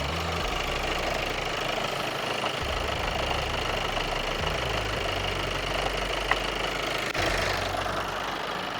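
A used car's engine runs at a steady idle after starting. The rumble is even and close, with a faint ticking knock on top and no voices over it.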